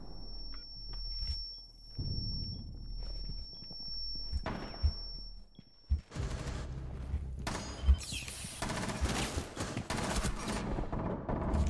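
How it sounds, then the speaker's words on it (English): Gunfire from hip firing in Rainbow Six Siege, heard as sporadic shots and short bursts mixed with footsteps and game noise. The action grows denser and louder in the second half. "I'm hip firing."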